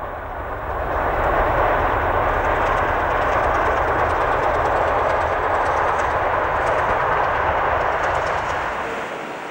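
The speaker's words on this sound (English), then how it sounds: "The soft exhaust makes for a relatively quiet locomotive." A steam compound locomotive runs past with a soft exhaust, a broad steady rumble and hiss that swells up within the first second, holds evenly, then eases slightly at the end, relatively quiet with no distinct chuffs.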